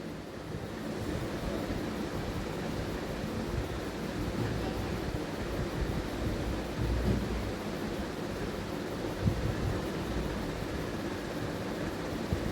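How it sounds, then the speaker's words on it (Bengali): Chicken pieces fry in hot oil for a chilli chicken dish, giving a steady, dense, soft sizzle that stays fairly quiet and even throughout, with no talking. "ওদিকে আমার তেল গরম করতে দেওয়া আছে, আমি একে একে মাংসগুলোকে সমস্তগুলোকে ভেজে নেব।"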